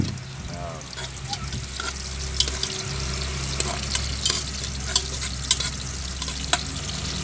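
Onions sautéing with ginger in a hot pan for native chicken ginataan, a steady close sizzle with scattered stirring scrapes and clicks throughout.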